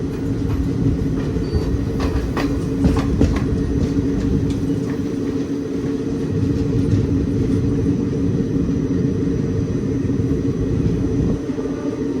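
A late-running special passenger train rolls along rails in India, its loud continuous rumble and rattling wheels steady and close throughout with a few sharper clanks near the start.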